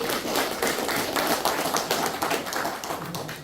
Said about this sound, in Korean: 그 박수 한번 주세요